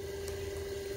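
Swimming pool pump running outdoors on a hot day, a faint steady hum with a constant tone and watery churn underneath, with no voices.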